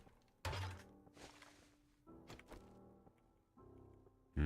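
Weapon reloading in the game 7 Days to Die, a series of heavy mechanical thunks and clacks in three bursts with pauses between, close and distinct, no talking.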